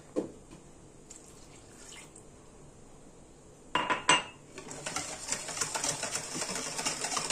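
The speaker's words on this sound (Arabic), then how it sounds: "هاجي بقى احط الحليب" Milk is added to vanilla sponge cake batter in a bowl: a few light utensil clinks, then a sudden splashing pour that settles into a continuous liquid wash.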